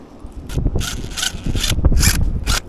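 Screws being driven into wall plugs set in aerated concrete, several short grinding bursts from the screwdriver in quick succession, close and loud with no talk.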